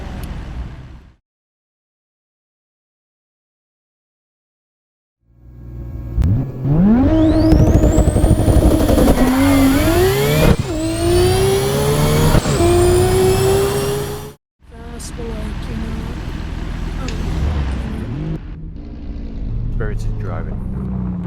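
Race car engines in Assetto Corsa rev loudly after a silent opening, rising and falling in pitch through gear changes, with a short cut before more engine roar and talk continue.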